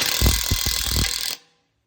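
A ratchet wrench clicks on an oil pump bolt of a 12v Cummins engine, making a quick, rhythmic run of close metallic clicks that stops abruptly into silence.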